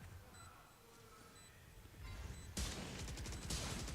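Gunfire from the video game Valorant bursts out in rapid spraying volleys during a match, loud and dense in the second half after quieter game ambience.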